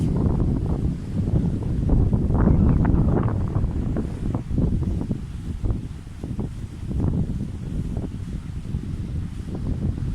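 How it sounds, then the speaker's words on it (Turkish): Sea waves roll and wash against a cliff-lined shore near Antalya amid heavy gusting wind buffeting the microphone, a rough continuous roar. "Dalganın sesini duyabiliyor musunuz bilmiyorum"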